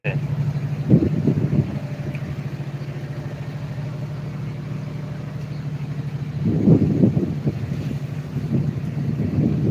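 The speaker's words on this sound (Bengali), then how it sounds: "খুব বাতাস অল্পের ভিতরে মুহূর্তের ভিতরে পরিবেশ শীতল করে দিয়ে গেল" Strong wind blows during a rainstorm in Brahmanbaria, producing a steady low roar with heavy buffeting against the microphone and louder gusts surging near the start and end.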